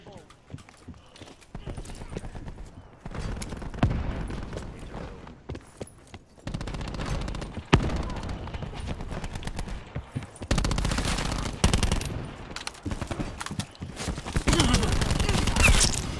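Gunfire in Call of Duty: Black Ops 4, bursts of rapid shots and single cracks scattered through the clip, some loud and close, with frequent talking between them.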